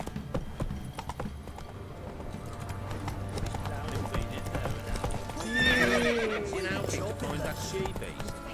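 Horse hooves clip-clopping in The Witcher 3, a steady rhythmic trot under ongoing talk, with a loud horse whinny breaking in midway before the hoofbeats carry on.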